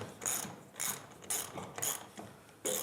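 A ratchet wrench loosens a long bolt on the mounting of the Townley Discobolos marble statue, sounding as crisp, spaced bursts of clicking repeated about six times with short pauses between.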